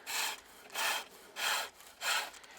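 Flat chisel cutting green wood turning on a pole lathe, four rhythmic shaving strokes at even intervals, each a bright rasping cut with brief quiet pauses between, close and clear with no talk.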